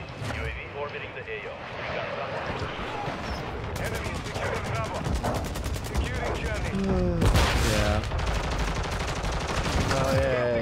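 Rapid gunfire in Elden Ring, the video game, rattling in dense volleys and bursts aimed at the player, loud and continuous amid the game's clashing effects, with a voice talking over it.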